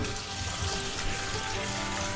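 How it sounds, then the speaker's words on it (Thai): Dirty water from boiled chicken feet poured out into a sink, a steady broadband splashing and gushing stream that runs continuously at close range with no talking. "เราต้องเทน้ำทิ้งก่อนหนึ่งน้ำเห็นไหม สกปรก"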